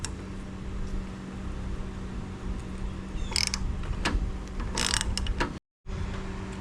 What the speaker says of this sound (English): we're going to tighten it up until we can get a cotter pin in any of these holes here